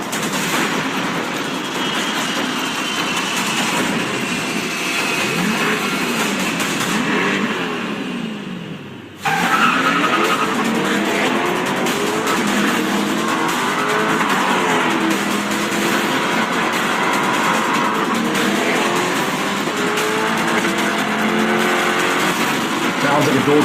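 A 2020 Chevrolet C8 Corvette Stingray engine with a dual-clutch transmission roars and revs at a loud, busy event, with shifts, a brief dip and crowd chatter mixed in.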